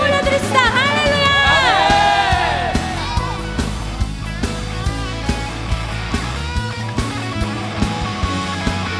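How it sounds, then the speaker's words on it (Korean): A young adults' congregation at a church worship service shouts and cheers loudly together, with rising whoops and yells that settle into a sustained roar over music. "우리 목자 되신 주님께 우리 함성 올려드립시다."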